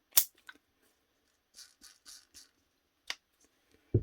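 Gears click together as an armature is fitted back into a cheap Makita-copy cordless drill during reassembly: a few sharp, close plastic clicks and short scrapes, separated by silence.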